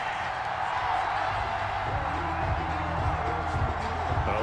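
In a Madden 21 Bengals versus Jaguars game, a stadium crowd reacts to a roughing-the-passer penalty, a continuous loud roar of many voices sustained across the whole stretch.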